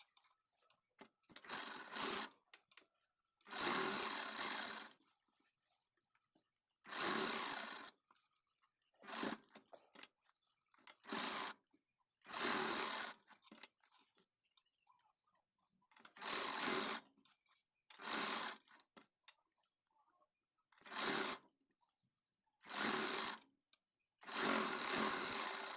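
A sewing machine stitches a blouse back neck in repeated short bursts of rapid mechanical whirring, each lasting a second or two and separated by pauses, heard up close and alone.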